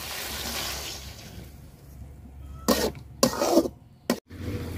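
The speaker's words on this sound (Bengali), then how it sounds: "একটু পানি দিয়ে দিলাম।" Water poured into a hot pan of fried onion, chilli and garlic paste for a tilapia curry with green mango, giving a few short loud sizzling bursts over a steady low background hiss.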